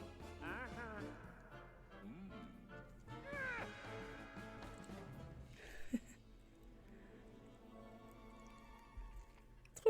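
A pet cat gives several faint, wavering meows, mixed with soft background sounds and occasional quiet clicks and thumps.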